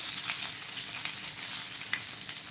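Bangda mackerel fish frying in oil, a steady broadband sizzle with scattered crackling pops throughout, close and continuous with no talking.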